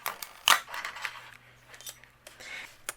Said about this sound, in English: I'm going to cut this seashell out here